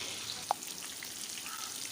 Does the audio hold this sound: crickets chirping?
no